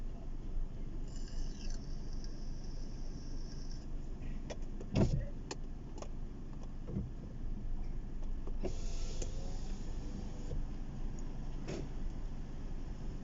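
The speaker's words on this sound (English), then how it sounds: "I've just closed the other window so it's not as windy." A car's electric window motor hums as the glass slides shut, over steady road and wind noise inside a moving vehicle.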